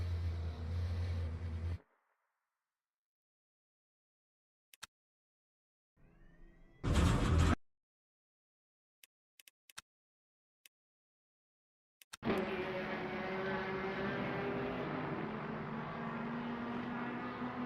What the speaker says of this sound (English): Man, you can hear that Lexus.